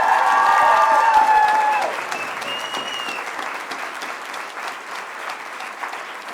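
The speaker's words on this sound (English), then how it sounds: "A round of applause for everyone," Audience applause for the cast at the close of a school Spamalot stage production, loud at first over a brief bright tone, then easing to a softer, steady clapping that carries on to the end.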